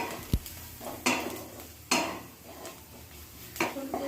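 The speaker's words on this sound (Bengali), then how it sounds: "বেসনটাকে একদম লো ফ্লেমে ততক্ষণ পর্যন্ত ভেজে নেব যতক্ষণ পর্যন্ত না বেসনের কাঁচা গন্ধটা চলে যায়" Gram flour dry-roasting on a low flame in a pan while a spatula stirs it. A few sharp, close scrapes and knocks of the utensil against the pan stand out over a quiet background, with no talking.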